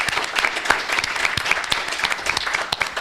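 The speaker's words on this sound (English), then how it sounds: "This is just basically several rounds of applause here." Loud, steady applause from a crowd, dense clapping sustained throughout without pause.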